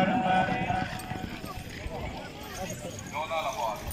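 Horse hooves clip-clopping at a gallop during a tent pegging contest in Jhelum, quick uneven beats heard under an announcer calling out team names over a loudspeaker.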